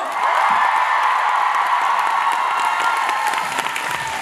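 A large fan concert crowd in Seoul applauds continuously, dense loud clapping with a few cheers, steady throughout.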